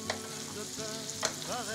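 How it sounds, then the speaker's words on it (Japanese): Aged steak fries slowly in butter in a pan, giving off a steady, close sizzle with a few brief louder spits over soft tonal background sound. "まずバターでゆっくりと肉を焼いていきます。"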